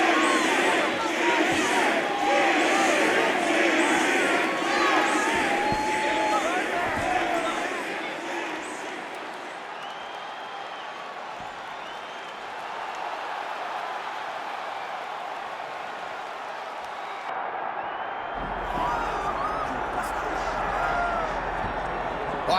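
Arena crowd roars and murmurs in the UFC 6 fighting game as Jon Jones faces Daniel Cormier, a dense, steady wash of cheering that eases slightly midway then swells again.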